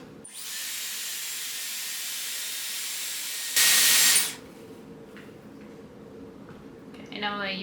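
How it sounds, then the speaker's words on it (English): A spray bottle hissing onto hair before styling with a Dyson Airwrap: a long steady hiss, then a louder short spray burst, followed by quieter handling as someone talks. "And I forgot this needs to be sprayed a little."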